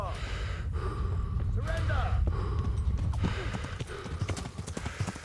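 Hooves of a video game horse clip-clop in rapid uneven steps as the animal gets stuck on a hedge, mixed with snorts and a man's exclamations and gasps over the top.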